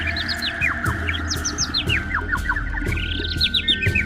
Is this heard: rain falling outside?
no